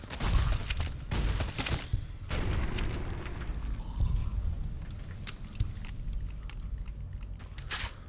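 Rapid shotgun blasts in Fallout: New Vegas fired at attacking ghouls, a dense volley of loud sharp reports in the first seconds followed by scattered shots and clatter over rumbling game ambience.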